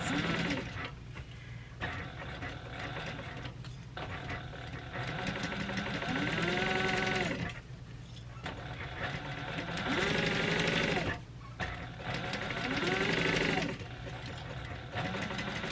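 A sewing machine back stitches along a tote bag seam, running in several bursts of rapid mechanical stitching separated by short pauses, close and fairly loud.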